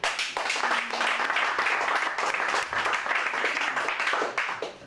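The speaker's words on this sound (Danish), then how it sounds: "Prøv lige at klappe en gang." An audience at a stand-up comedy show in Århus claps, a dense burst of applause that holds steady for several seconds before tapering off.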